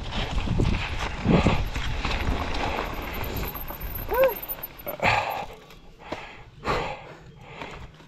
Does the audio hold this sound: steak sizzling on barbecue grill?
no